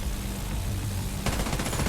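Gunfire from the video game The Division 2 during a raid, a dense continuous burst of automatic shots that intensifies partway through, loud and busy with no voices.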